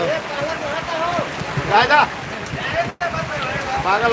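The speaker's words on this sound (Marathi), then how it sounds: "पावसाने भरलं" Heavy unseasonal rain falling on a vegetable market in Boisar, a steady hiss of downpour under nearby voices talking, with a momentary dropout midway.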